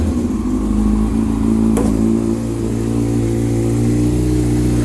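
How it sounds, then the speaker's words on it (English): A Yamaha YZF-R6 motorcycle engine, started after an oil change, idles steadily close by with a constant low, throbbing hum and a faint mechanical clatter. "we are going to start the engine"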